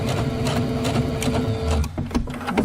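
A domestic sewing machine backstitches through bulky pillow wall-hanging layers, a close continuous mechanical whirr with a brief pause and restart near the end.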